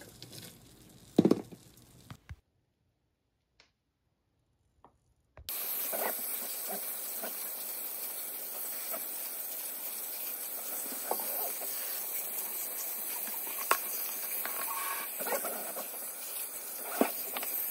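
Hot boiled water poured over rice sticks in a bowl, a steady continuous hiss and splashing rush that runs for many seconds after a short quiet pause, with a few faint clinks along the way.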